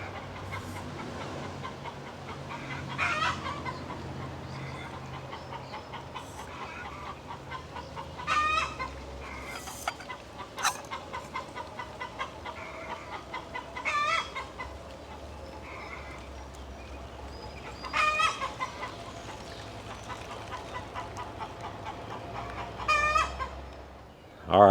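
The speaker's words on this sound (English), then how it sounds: "I suppose I should have fed them chickens before I did this." Chickens cluck and squawk in repeated bursts over a steady outdoor background, with occasional louder calls from nearby birds.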